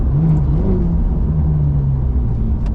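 A car engine rumbles deep and steady at a high idle, the exhaust note rising slightly in pitch as it revs, loud and close.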